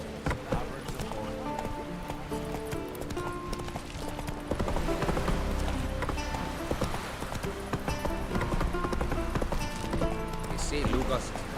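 Roach, a horse in The Witcher 3, runs with steady clip-clopping hooves under continuous melodic game music and ambient effects.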